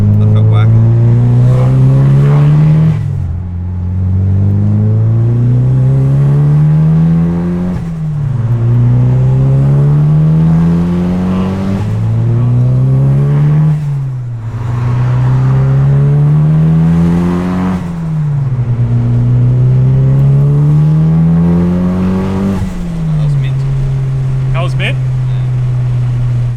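A turbocharged Mitsubishi Lancer is driven on the street at full throttle, the engine loud and close, climbing repeatedly through the revs with brief dips at each gear shift, while people talk inside the car.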